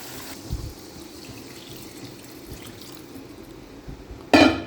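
Water is poured into a soybean and potato curry, soft trickles and drips under quiet kitchen background, then a brief loud splashing pour at the end.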